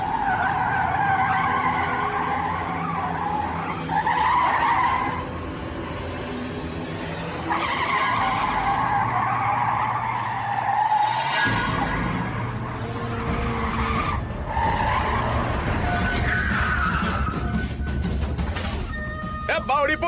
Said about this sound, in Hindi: गाड़ी का टायर ब्लास्ट हो गया।